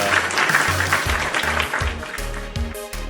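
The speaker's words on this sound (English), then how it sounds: "Round of applause, everybody, for our prestigious guest here today" Applause for a guest on a wrestling podcast, a dense wash of clapping layered over a rhythmic musical bass line, continuous and fairly loud throughout.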